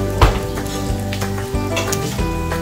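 Sisig sizzles and crackles loudly in a hot pan, a continuous hiss with occasional scraping and stirring knocks.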